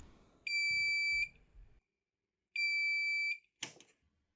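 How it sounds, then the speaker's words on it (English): A buzzer on an electronics learning lab kit gives two long, loud electronic buzzes a couple of seconds apart, shrill and steady, followed by a short clattering knock. "you set it up to work with the buzzer, and it buzzes every time it lights up"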